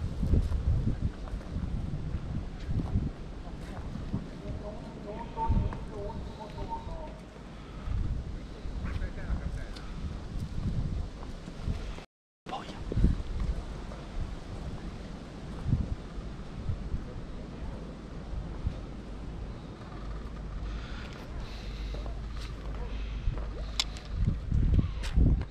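Gusty wind blows across a trout area fishing lake during a competition, rumbling and buffeting the microphone in a continuous roar with faint rustle and a brief dropout midway.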